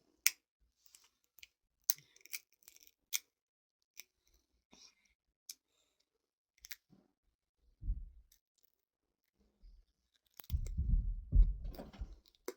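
A small child chewing food, with sparse wet clicks and smacks scattered through near silence and a burst of louder, rumbling mouth noise toward the end, close up and without talk.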